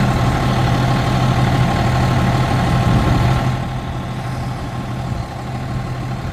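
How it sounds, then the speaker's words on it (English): A garbage truck's engine idles close by in a steady, loud low rumble with a hum, easing slightly quieter partway through. "There's our trash truck."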